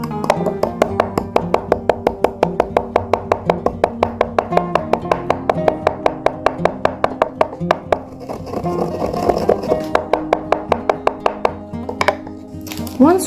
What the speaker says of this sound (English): Place it into a grinder and crush it fine.